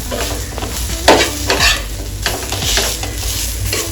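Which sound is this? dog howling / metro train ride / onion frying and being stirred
onion frying and being stirred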